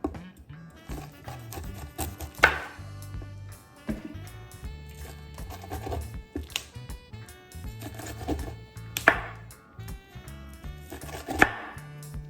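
A knife chops corn on a cutting board while making Jamaican pumpkin chicken soup. The knocks come in irregular clusters, each sharp and close, and between them there are quieter handling sounds. No one speaks.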